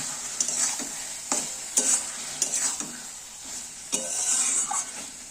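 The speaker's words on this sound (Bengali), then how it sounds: "এইবার আমি সম্পূর্ণকে একটু নেড়ে চেড়ে নেব, কষিয়ে নেব" Mustard and poppy seed paste masala with eggplant, potato and tomato is stirred and fried in a pan: repeated scraping strokes over a steady close sizzle, with no voices.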